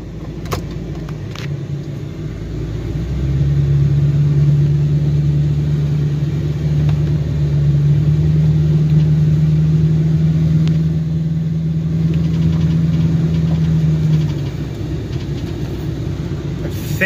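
A 1996 Oldsmobile Cutlass Ciera SL idles steadily after a cold start, a loud, even low engine drone that swells after a few seconds and holds for about ten seconds before easing slightly, with no voices.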